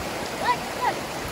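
A stream's current on the Culham Trail, a broad, constant rushing wash of moving water close by, with faint voices in the background.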